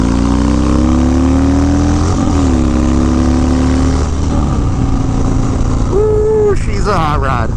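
Harley motorcycle fitted with Lucky Daves riser T-bars, riding with a loud continuous engine drone that rises and falls in pitch through gear changes, with a sharp rev near the end.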